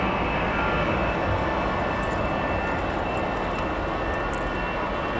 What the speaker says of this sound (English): The next one is rolling with the Shamrock call sign, Aer Lingus.